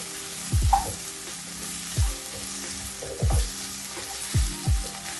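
Chicken keema pieces sizzle in a hot pan, broken by about six short clattering stirs of a spatula at irregular intervals, close and fairly loud with no talking.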